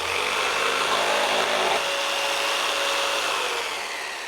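A jigsaw cuts away an excess piece of wood on a shop table, giving a loud, steady buzzing rasp up close that continues through the whole stretch and eases slightly at the end.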